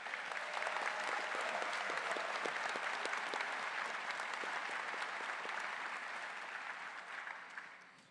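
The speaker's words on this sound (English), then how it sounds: "Let's give all of our graduates a round of applause." Steady, dense applause from a large audience at a fall college graduation ceremony, sustained evenly for several seconds before tapering slightly at the end.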